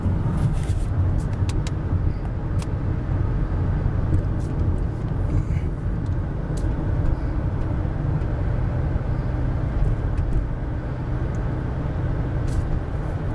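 A car drives home on a hot, dry day, with steady road and engine rumble filling the interior from start to finish and no speech.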